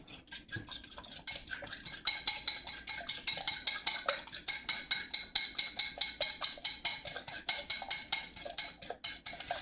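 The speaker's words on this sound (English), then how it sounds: "So we've got the eggs. We're going to whisk them up a little bit." Eggs whisked in a bowl, a fast regular run of close metallic clicks and taps from the whisk against the bowl, steady and alone without talk.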